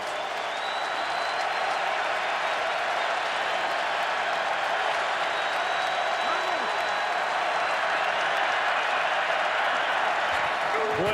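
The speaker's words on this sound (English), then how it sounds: "Crowd comes alive." A football stadium crowd roars at a Cowboys vs Titans game as the Titans are pushed back, a loud continuous wall of cheering and clapping that holds evenly for over ten seconds.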